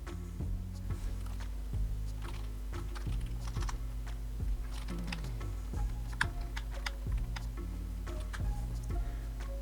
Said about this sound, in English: Don't worry if you don't see anything while you are typing a password. It does register your key presses.